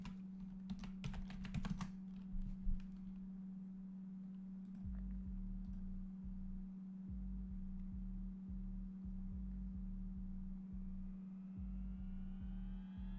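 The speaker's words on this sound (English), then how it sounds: "I'll type it into the chat." Computer keyboard typing during a live trading session comes as a steady run of soft, rapid keystroke clicks over a constant low electrical hum, with a few louder clicks and taps at the start.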